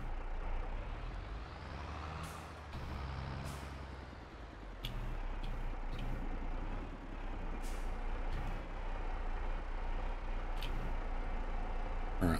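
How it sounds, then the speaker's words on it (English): A truck idles in Farming Simulator 22 with a low engine drone, then the handbrake is applied with several sharp pneumatic hisses and clicks scattered over the steady rumble. "let's go ahead and put our handbrake on."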